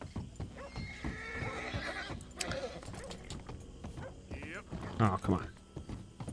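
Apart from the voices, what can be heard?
horse neighing and hooves in a video game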